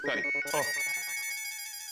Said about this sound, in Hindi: बासुंदी का फिर से फोन।